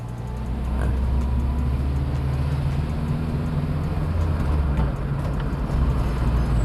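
A 2001 Toyota Soluna GLi sedan with a 93-horsepower engine, kicked down from third gear, gives a steady, droning engine roar from inside the cabin that holds at an even loudness throughout, with no voices.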